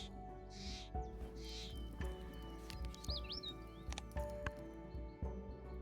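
Short chirping bird call from the Hooded Warbler card in the Wingspan board-style video game, a quick pitch-sliding tweet heard once over steady background game music with a few soft clicks.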